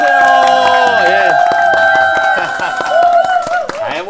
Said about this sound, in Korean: 이정윤 대표 박수와 함께 모셔보도록 하겠습니다